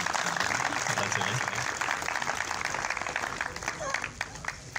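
Sustained applause from a crowd at a cricket academy ceremony, a continuous wash of clapping heard through a hall with voices murmuring underneath, steady and moderately distant.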